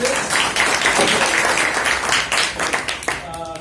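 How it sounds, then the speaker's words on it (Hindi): An audience claps loudly to welcome a guest speaker at a foundation event, dense sustained applause that thins toward the end as a voice begins speaking. "तो हम लोग सभी जोरदार ताली के साथ राधे सर का स्वागत करते हैं।"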